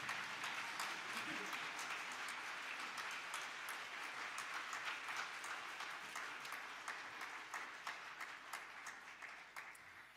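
A concert audience gives a choir sustained applause at a 50th anniversary celebration, a broad, steady wash of many hands clapping that slowly tapers toward the end.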